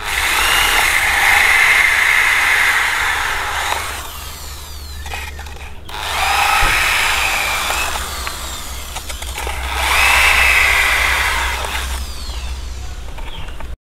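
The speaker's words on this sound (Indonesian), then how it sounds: "Kita lubangi seperti ini." Power drill boring holes into PVC for a gutter filter. Three loud, close whining bursts rise and hold, with short quieter gaps between them.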